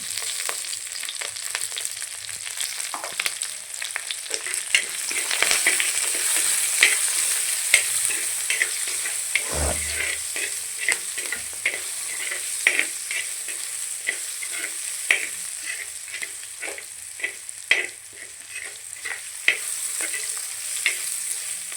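Onions sautéing in a hot pan with curry leaves and asafoetida, a steady bright sizzle broken by frequent stirring scrapes and taps, close and continuous with no talking.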